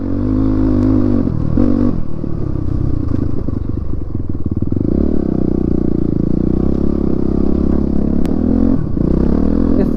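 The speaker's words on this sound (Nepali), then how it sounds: "यस्तो गाह्रो मलाई जिन्दगी भएको थिएन बाइक चलाउन त्यही डट बाइक" A dirt bike on a slippery off-road trail: a loud, close engine labouring and revving unevenly, with clattering and scraping over rough ground throughout, and no talk.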